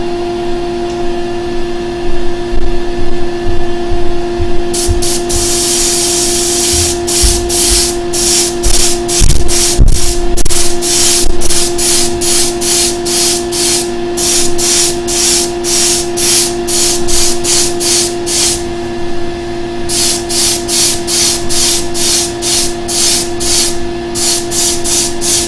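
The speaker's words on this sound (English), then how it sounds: "I'm going to focus on spraying from an angle like this" An airbrush sprays paint head-on onto the main body of an Imperitus miniature: loud, steady hissing broken into quick rhythmic bursts, over a constant low hum, with no talking.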